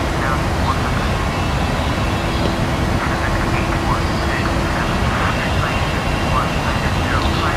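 Steady airliner engine roar during a climb toward 10,000 feet in the PMDG flight simulator, a constant broadband drone with a faint tonal hum underneath throughout.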